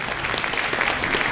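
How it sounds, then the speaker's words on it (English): A short burst of close, dense applause from a school jazz concert audience for a student band, sustained and even throughout. "Another round of applause for the Kurn Hattin Band"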